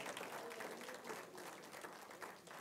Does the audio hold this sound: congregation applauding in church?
yes